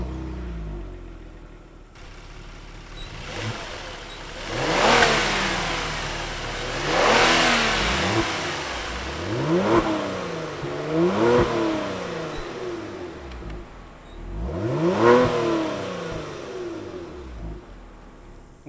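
A 2019 Kia Stinger GT2 RWD with a twin-turbo V6 and 8-speed automatic accelerates hard several times, revs climbing and dropping through gear changes, heard from fairly close with brief idle between pulls.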